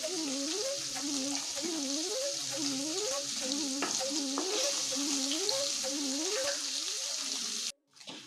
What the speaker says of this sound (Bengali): পনির, কাজু, কিশমিশ সব হালকা করে ভেজে নিয়েছি